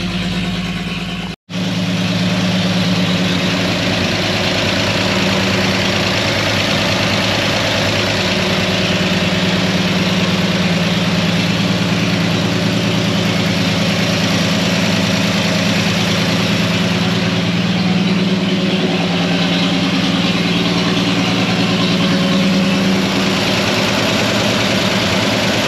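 Antique fire truck engine idling after starting, warming up: a loud, close, steady low rumble with an even throb that holds unbroken for the whole stretch after a momentary dropout near the start.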